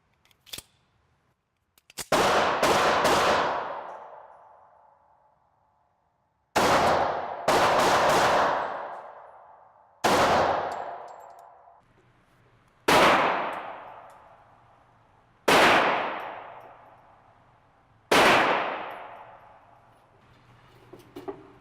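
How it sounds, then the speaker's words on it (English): A Kimber 1911 .45 ACP pistol fires seven loud, sharp shots at an indoor gun range. The first comes alone, then a quick pair follows, and the rest are single shots about two to three seconds apart, each trailing a ringing decay. "fire a few rounds here"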